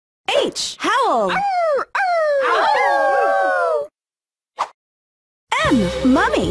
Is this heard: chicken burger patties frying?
no